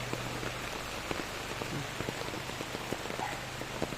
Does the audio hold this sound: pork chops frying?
no